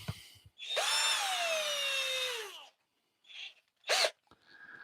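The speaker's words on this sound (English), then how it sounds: "I'm going to drill some small holes in there just to define the difference" A power drill whines up for about two seconds, then cuts off, followed by a couple of short, quieter bursts of drilling small holes in wood.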